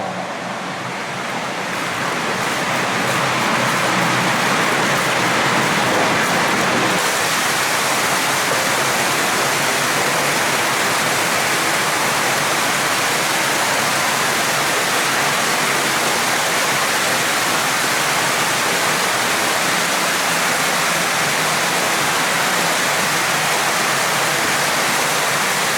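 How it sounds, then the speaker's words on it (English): Steady, loud roar of a waterfall inside an underground river tunnel beneath Meersbrook in Sheffield, a dense continuous rush with no breaks, slightly thinner for the first few seconds before swelling fuller. "about 100 metres down I can see another waterfall."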